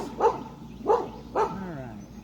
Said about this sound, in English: What's the dog going nuts on?